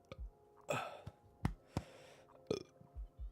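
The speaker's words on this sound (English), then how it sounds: "I have to burp." A person gives a few short, quiet burps or hiccup-like gulps at an indoor setting, spaced irregularly with soft breathing in between and no speech.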